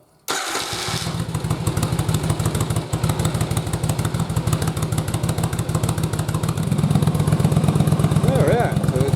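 A Yamaha Virago motorcycle fitted with a single-carburetor intake starts up and settles into a loud, steady, pulsing idle that runs continuously, growing slightly stronger toward the end.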